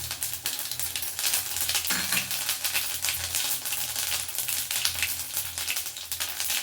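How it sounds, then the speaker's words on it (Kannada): Mustard seeds and cumin sizzle in hot oil for a bean sambar, making a constant crackling fry with small pops and seed spatters, heard fairly close and with no talk over it. "ಇದಕ್ಕೆ ನೋಡಿ ಸ್ವಲ್ಪ ಸಾಸಿವೆ ಮತ್ತು ಜೀರಿಗೆನ ಹಾಕ್ಕೊಳ್ತೀನಿ."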